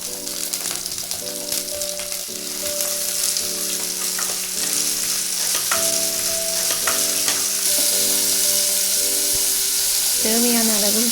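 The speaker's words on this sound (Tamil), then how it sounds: "தேவையான அளவு எண்ணெய் ஊற்றி ஒரு டேபிள் ஸ்பூன் வெந்தயம் போட்டு தாளிக்கலாம்" Steady crackling sizzle of fenugreek seeds and curry leaves frying in hot oil, continuous and close, with faint background tones.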